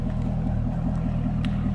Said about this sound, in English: aftermarket exhaust, we got a little deeper exhaust note on this one